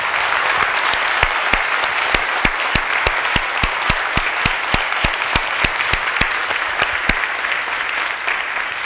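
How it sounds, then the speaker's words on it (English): A church congregation applauds the organist, a steady crowd clapping with a few sharp, distinct claps standing out in a fairly regular rhythm, loud and close. "I want you to give her a round of applause"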